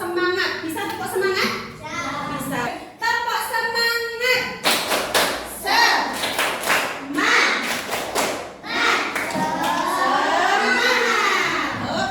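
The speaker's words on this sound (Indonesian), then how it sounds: "yuk kita tepuk-tepuk dulu biar semangat" Schoolchildren in a classroom clap together in a rhythmic chant game before a lesson, bursts of sharp patterned claps alternating with loud chanting young voices and a teacher's lead.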